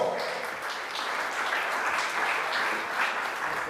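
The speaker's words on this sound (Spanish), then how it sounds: "Fuerte el aplauso para Julio César Cristaldo." Steady applause from an audience at a classical guitar recital fills the clip. The clapping is dense and even throughout, with no talk over it.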